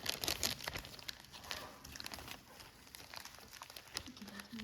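Plastic sports card packaging being cut open, with soft crinkling and crunching of the wrapper and quick snips, close and fairly quiet, with some faint background movement.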